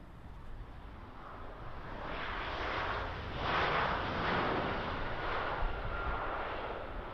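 An airliner touching down at Birmingham Airport gives a distant, broad jet roar that swells in the middle and then holds, faint and steady, with no voices.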